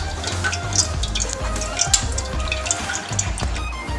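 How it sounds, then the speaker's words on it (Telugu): Water is poured over blended carrot paste in a net strainer, producing soft, close splashing and trickling with small irregular drips and gurgles and no talking. "మిక్సీ జార్లో ఉన్న క్యారెట్ పేస్ట్ మొత్తం ఈ విధంగా వాటర్ పోసుకుంటూ నెట్ చేసుకోవాలండి, ఫిల్టర్ చేసుకోవాలి."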